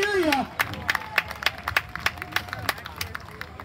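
Crowd at a springboard chopping contest clapping and cheering on a struggling competitor: a burst of rhythmic hand claps and sharp knocks repeats steadily over a murmur of voices, following a short shout at the start.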